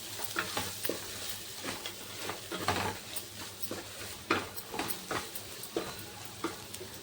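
Chili powder and spices are stirred together in a cooking pan for a raw mango crab curry, giving soft irregular scraping strokes over a faint sizzle, close and fairly quiet.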